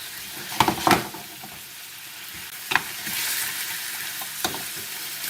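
Carrots simmering in a honey glaze in a pan give a steady soft sizzle, broken by a few sharp scrapes and clatters as a utensil stirs them, with the bubbling hiss rising and easing between strokes.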